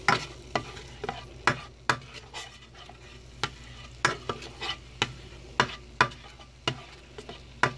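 Butter melts and sizzles in a pan on the stove for beef stroganoff, a soft steady sizzle broken by regular sharp taps and scrapes of a utensil stirring against the pan, with no talking.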